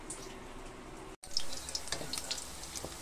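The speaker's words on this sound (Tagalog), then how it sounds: "Palagay sa ito, iprito na po natin yung tortang dulong." Dulong silverfish omelette frying in hot oil, a steady close sizzle that jumps louder after a brief cut, with small crackles and spatters throughout.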